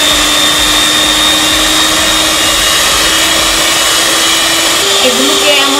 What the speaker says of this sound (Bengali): এবার আমি বিটার দিয়ে এগুলোকে ভালো করে বিট করে নেব